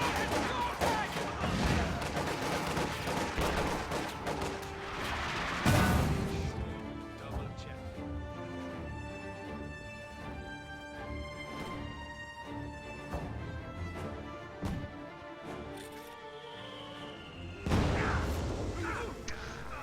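White phosphorus shells strike a mortar position in a war video game, heavy crashes and booms opening and returning near the end, while someone narrates over a ringing musical background.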